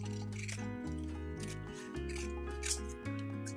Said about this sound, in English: Maybe I'll just cut it from this corner.